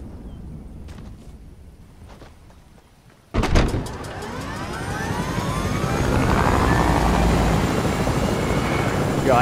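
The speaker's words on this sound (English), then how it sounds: "should I take the heli to get the high ground?" A helicopter in the Fortnite video game starts up with a sudden loud thump, then a rising turbine whine and steady rotor roar that swells and holds close by, with no talking.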